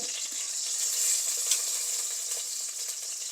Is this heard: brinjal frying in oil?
yes